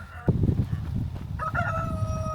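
A rooster crows partway through, its drawn-out call ringing over a steady low rumble and some handling noise.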